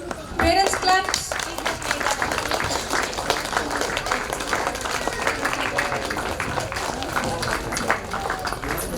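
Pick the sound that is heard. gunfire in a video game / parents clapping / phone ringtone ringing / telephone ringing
parents clapping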